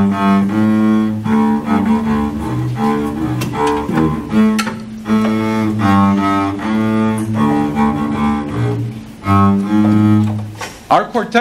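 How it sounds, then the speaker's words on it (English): A double bass plays low bowed notes over several bars, deep and sustained, backed by other strings playing together, with no voices over them. "The bass is the biggest of all,"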